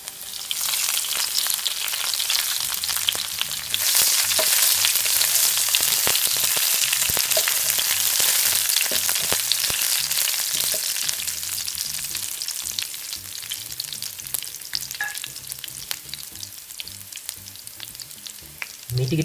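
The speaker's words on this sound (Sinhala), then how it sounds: "තෙල් ටික හොඳට රත් වුණාට පස්සේ මේකට පොඩියට කපාගත්තු ඉඟුරු සුදු ලුණු ටික එකතු කරගන්න" Chopped ginger, garlic and curry leaves hit hot coconut oil with a loud, steady sizzle that fades slightly over time, with a few stirring clinks near the end and no voices.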